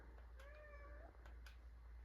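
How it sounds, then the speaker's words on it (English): A house cat gives a single soft, drawn-out meow in a quiet indoor room, faint and at a slight distance, with no talking. "There's my cat."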